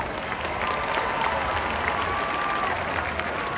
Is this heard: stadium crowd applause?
yes